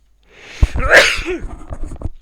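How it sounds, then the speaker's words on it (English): A single loud sneeze erupts close to the microphone, a sharp intake building into one explosive burst, followed by a brief trailing breath and a low murmur. "Sneeze."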